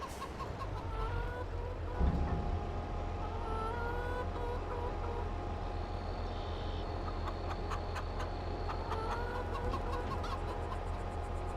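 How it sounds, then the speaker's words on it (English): Chickens clucking in the Farming Simulator 22 video game, a steady run of hen clucks and calls over a constant low farm hum and light clatter, without speech. "There's a lot of work to just give the chickens a little bit of feed."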